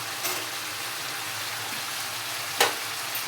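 Garlic and red chili frying in a pan for radish chutney, a steady soft sizzle with a brief louder crackle near the end, close and alone with no talk.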